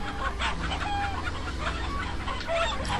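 A coop of chickens in The Hobbit video game clucks and squawks in a busy, continuous chorus over a low steady background hum, fairly loud and close, with no voices.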